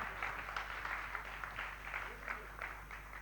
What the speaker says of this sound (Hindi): एक बार बहुत तालियों के साथ आप उनका स्वागत करिए